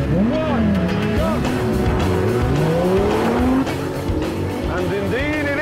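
Porsche's brand-new 3.8-litre twin-turbocharged, direct-injected flat-six car racing hard, engine note rising and falling through gear changes with tires squealing and skidding, loud and close, with a voice talking over it.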